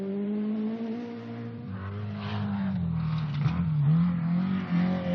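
A rally car on a 1979 Australian rally stage drives hard, its engine holding a droning tone that rises and dips with the throttle. Close and steady, with some tire noise and no talking.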